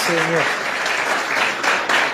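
A church congregation claps in praise, a dense wash of applause filling the short stretch, with a voice calling out briefly near the start and the clapping continuing steadily to the end.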